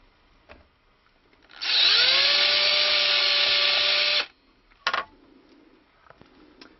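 A small power drill bores a pin hole in the wood of a stick dulcimer, a loud steady whine lasting a couple of seconds that ends abruptly and is followed by a brief clatter and quiet handling.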